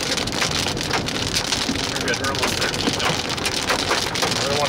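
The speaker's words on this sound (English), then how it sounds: "That was some good hail." Hail pounding on a car during a storm, a dense, steady rattle of impacts on the roof and body heard from inside, loud and continuous, with brief talking partly under it.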